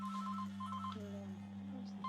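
A phone rings in two short bursts of electronic warbling tones over a steady background hum, faint and somewhat distant, followed by a few quieter descending tones.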